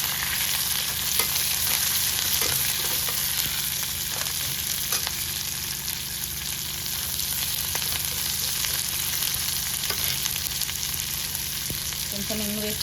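Onions fry briefly in a pan with a continuous, even hiss of hot oil and occasional faint clicks, heard alone for a long stretch without any voices.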